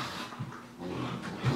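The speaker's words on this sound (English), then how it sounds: "Ignore the dogs, they're playing." Dogs playing indoors, giving brief low growls and grumbles in short bursts at moderate distance, with a louder growl near the end; no talk.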